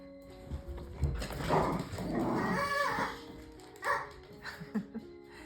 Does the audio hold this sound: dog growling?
yes